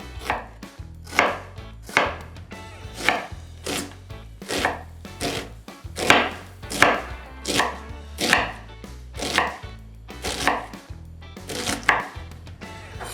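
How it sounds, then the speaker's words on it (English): Knife chopping onions on a cutting board for mushroom gnocchi, a steady run of crisp, close, loud strokes in a regular rhythm with no talking. "There's gonna be lots of chopping again"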